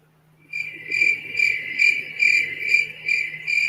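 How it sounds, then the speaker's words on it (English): Cricket chirping sound effect played during a podcast, a close, pulsing chirp repeating in a steady rhythm after a brief silence, with no voices. "Crickets."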